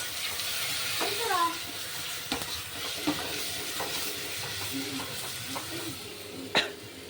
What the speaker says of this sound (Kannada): ಸೊ ನೆಕ್ಸ್ಟು ಅದನ್ನು ಕ್ಲೀನಾಗಿ ಫ್ರೈ ಮಾಡ್ಕೊಳ್ಳಿ.